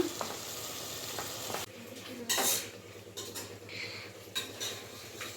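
Tomatoes sizzle in a pan for a masala tomato bath, with a steady frying hiss and occasional scraping clinks of a spoon stirring, fairly faint and close, no talk.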